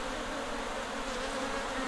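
A dense, steady buzz of large bees carries on unbroken as they crawl up into a hive from a cardboard basket during a hive transfer in Ghana.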